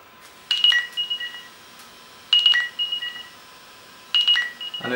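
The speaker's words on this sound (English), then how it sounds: "And it is quite a particular ringtone." A Lumia phone rings remotely through Find My Phone, playing a distinctive ringtone of short, bright electronic chirp bursts that repeat three times at roughly two-second intervals, loud and close.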